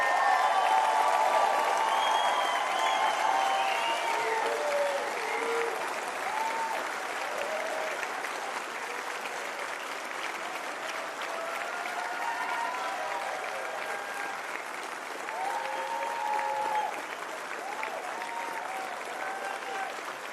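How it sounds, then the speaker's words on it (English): Sustained applause from a large crowd at a university graduation ceremony, steady and full for the whole stretch, fading slightly toward the end. "Please put on your hats and let's applaud you."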